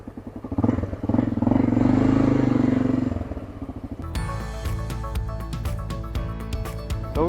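A 30-year-old Honda Dominator motorcycle accelerates hard, its engine note loud and close and climbing steadily for about three seconds before settling into a busier mix of road and wind noise.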